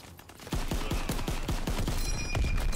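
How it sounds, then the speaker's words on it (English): Rapid single shots from an M1 Garand semi-automatic rifle in Call of Duty: WW2 on the beta multiplayer map, loud sharp cracks fired in a quick steady rhythm over busy game ambience, with distant battle noise behind. "let's try this new weapon then. This new assault rifle. M1 Grand."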